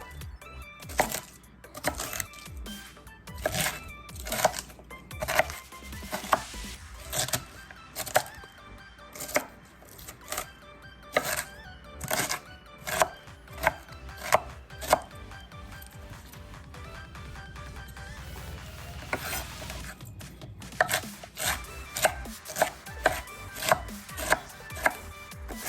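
Rapid knife chopping of vegetables on a cutting board while preparing a Labor Day dinner, with sharp, close, rhythmic cutting strokes that form steady bursts, a short pause near the middle, then another quick run of chops.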